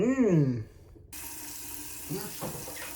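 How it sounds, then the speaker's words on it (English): Water gushes steadily from a sink tap, a broad hiss that starts abruptly after a voice and carries on while GameCube controller parts are washed, with brief speech under the flow. "So I just got the water running."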